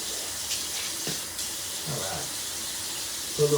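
Water runs from a tap in a steady broadband rush, filling or rinsing during a dental cleaning routine, with a few faint knocks and a short rattling sound near the end.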